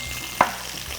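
Peda fish with chilies fries in hot oil, a low steady sizzle broken by one sharp spatter or stirring clack near the middle, close and moderately loud with no voices.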